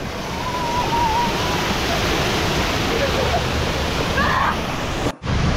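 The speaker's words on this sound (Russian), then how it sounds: "Водопад!" A steady, loud rush of falling water roars close by at a water park in Yerevan, Armenia, with faint voices calling out over it and a brief dip near the end.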